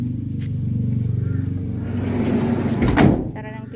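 A van's sliding door pulled shut, a single solid slam near the end over a running engine's low idle hum, close by.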